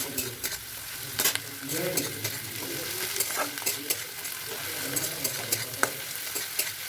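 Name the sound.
stirring and frying spicy semolina (suji) in a pan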